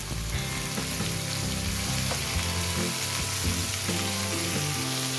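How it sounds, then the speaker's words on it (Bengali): Sliced onion frying with ginger and garlic in oil for a fish dish, a dense continuous sizzle heard close up, with soft stirring scrapes and no talking. "পেঁয়াজটা দেওয়ার পর পেঁয়াজটাকেও ভালোভাবে আদা রসুনের সাথে কষিয়ে নেব"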